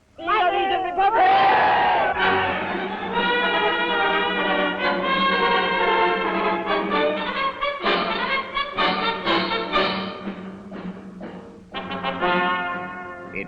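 A large crowd cheers and chants for Indonesian independence in a 1946 film, sustained loud massed voices with swelling, wavering shouts that rise and fall in waves for over ten seconds.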